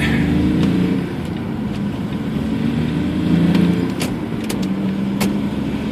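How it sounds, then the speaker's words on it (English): A smart car's small engine hums steadily from inside the cabin, swelling slightly as it begins to pick up speed, with road rumble underneath. "eventually we'll actually start to accelerate"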